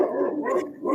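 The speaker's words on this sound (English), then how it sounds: "All I hear is a dog in the background." A dog barks and yelps briefly in the background of an interview, one short, fairly close burst.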